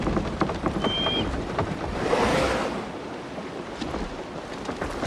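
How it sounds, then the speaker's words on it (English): Steady rain falls in Assassin's Creed Shadows on PS5, a dense, even hiss of drops with a faint higher tone briefly over it, continuous and close, with no voices. "Just listen to that rain."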